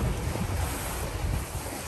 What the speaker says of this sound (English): 11 knots of wind.